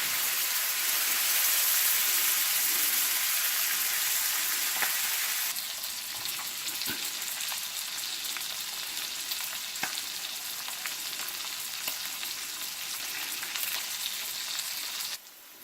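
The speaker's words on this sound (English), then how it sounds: "Flip this bacon over" Homemade cured smoked bacon fries in a pan with a steady, close crackling sizzle throughout, easing slightly halfway through.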